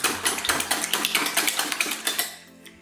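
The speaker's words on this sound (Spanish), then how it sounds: "Mientras que se fríe la cebolla, bato los huevos." A whisk or fork beats eggs seasoned with pepper and salt in a bowl for an onion tortilla: rapid, steady metallic clicking and tapping strokes, close and loud, that stop abruptly near the end.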